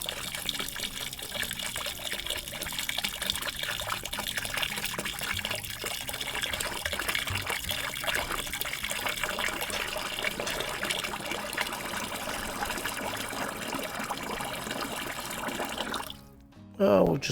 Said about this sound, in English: warm to hot water, but we're not going to pour in the whole thing